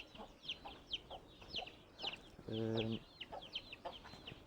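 Chickens clucking in a coop, repeated soft clucks throughout at moderate distance, with a brief hum-like sustained tone midway and a voice uttering a filler sound.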